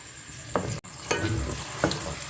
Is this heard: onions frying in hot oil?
yes